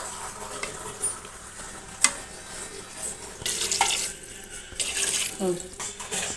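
Water runs from a tap into a pot of basmati rice being readied for biryani, a steady splashing pour with occasional knocks and louder gushes, and a voice speaks briefly.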